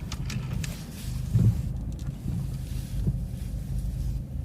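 Steady low rumble of a car being driven, a continuous engine and road drone with some wind buffeting on the microphone, no talking over it.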